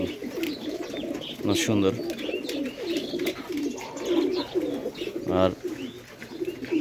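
Pigeons cooing at a busy pigeon market, throaty rolling coos repeating close by, under a murmur of people talking and bargaining.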